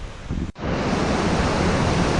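Creek water rushing steadily at a high-water ford on Montgomery Creek, a loud, continuous broadband wash with no voices, briefly dipping at one point before resuming at full strength.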